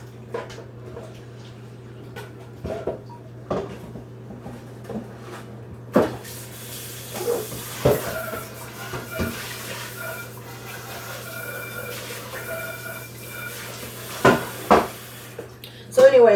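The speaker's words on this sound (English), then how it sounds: "So I'm going to wash the pot." Pot being rinsed and scrubbed with water in a home kitchen while making chicken stock, with scattered clanks and knocks of the pot against the sink and running water throughout, louder bumps near the end.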